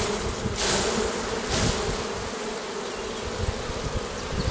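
Honeybees swarm loudly around an opened hive frame during a midsummer honey harvest, a dense steady buzz with wing whines passing close by, no voices over it.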